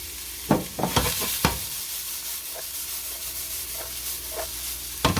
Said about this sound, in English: we're going to let this saute down